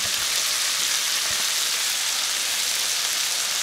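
Pork chops fry in a pan with onion and tomato, giving a steady, close, rain-like sizzle and hiss that holds an even loudness throughout, with a few faint pops underneath.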